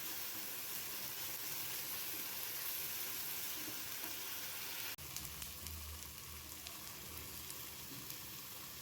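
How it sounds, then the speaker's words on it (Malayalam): Ground tomato is stirred into masala frying with ginger and garlic, giving a faint, steady sizzle and hiss, broken by a single soft clunk partway through as the pan is stirred. "ഈ അരച്ച് വെച്ച തക്കാളി ഉണ്ടല്ലോ അത് ഇതിലേക്ക് ഒഴിച്ചു കൊടുത്തുകൊണ്ട് നല്ല ഒന്ന് ഇളക്കി കൊടുക്കണം"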